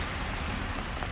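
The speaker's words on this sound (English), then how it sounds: "the rain started yesterday all day, and I believe it will be raining until tomorrow" Steady rain falls on a town street in Ridgewood, New Jersey, a continuous close hiss with no voices.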